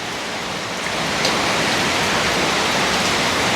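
Heavy rain pours down steadily in a dense, loud hiss that swells slightly after the first second, with a brief spoken phrase under it.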